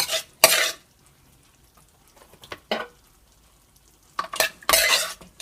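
A spoon stirs pieces of food through a home-cooked curry in a pan, coming in a few short scraping bursts separated by near-silent gaps.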